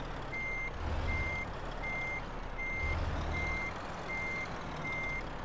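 Steady reversing alarm of a truck in Euro Truck Simulator 2, seven evenly spaced beeps over a continuous low engine rumble, with no talk.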